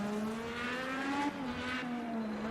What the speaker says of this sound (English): listen to the hum of those engines